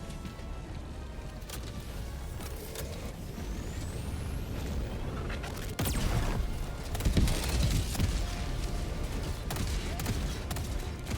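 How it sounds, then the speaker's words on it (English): Autocannon turret in Helldivers 2 firing at distant enemies, heard as a steady stream of sharp bursts and impacts over continuous battle noise, growing louder and denser in the second half. "So you can see the autocannon is able to shoot down enemies from super far away."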